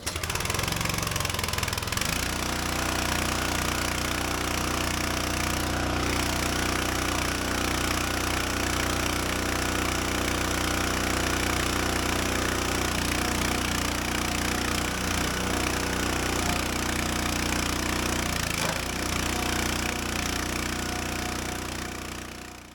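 A loud engine drones steadily throughout, with a brief dip near the start and another near the end, as a log splitter runs under load splitting firewood.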